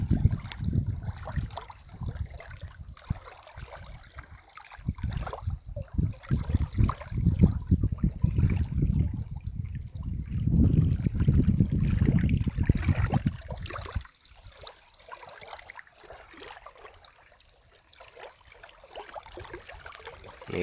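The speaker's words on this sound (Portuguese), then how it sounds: "ouvir o barulho da água quebrando nas beiradas" Small wind-driven waves splash and lap against the rocky edge of a reservoir at Barragem do Peão, São João do Paraíso, Minas Gerais, in an irregular, close-up wash of water, swelling midway then easing to a softer trickle.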